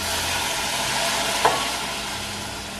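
Long beans curry with coconut milk being stirred in a pan, a steady soft sizzling scrape running throughout with one brief louder clink near the middle.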